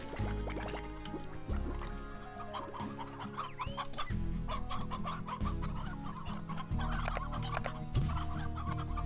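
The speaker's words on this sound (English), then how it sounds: "Is that the game, or is that a real human who's telling me about chickens?" Chickens in the video game Slime Rancher cluck repeatedly and fairly loudly, mixed with watery dripping and filling sounds in a busy, continuous game soundscape.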